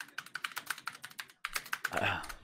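Rapid typing on a computer keyboard, a close, crisp run of evenly spaced keystrokes that briefly pauses and resumes, with a voice speaking over the last part.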